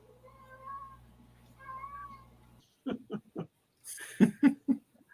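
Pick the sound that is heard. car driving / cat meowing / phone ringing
cat meowing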